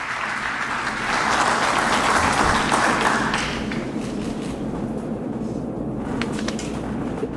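A crowd applauds at the São Paulo governor's inauguration ceremony in Palácio 9 de Julho, a dense steady wash of clapping that swells briefly then continues evenly throughout.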